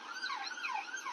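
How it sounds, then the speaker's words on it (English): An ambulance siren wails through an Edinburgh street, its rising and falling two-tone sweep loud and close, sounded alone with no talk over it. "Yeah, there's an ambulance."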